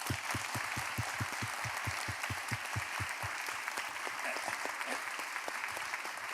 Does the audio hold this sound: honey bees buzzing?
no